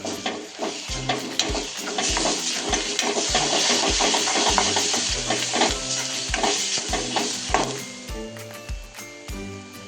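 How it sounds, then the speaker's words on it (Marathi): Dark masala paste sizzles and fries in hot oil for Maharashtrian mutton, with a spoon scraping and stirring the pan in a steady repeated rhythm, loud and close. "छान भाजला बघा मसाला, तेल सोडायला सगळीकडून."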